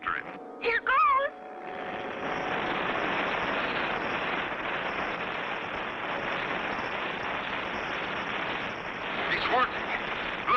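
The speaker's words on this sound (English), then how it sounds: "Your folding model airplane. Here it is, Clutch. Wind it up and let it go." A wind-up folding model airplane in a cartoon space-station episode buzzes steadily as it flies, a sustained whirring drone that holds for several seconds after brief voices at the start, with a short vocal burst near the end.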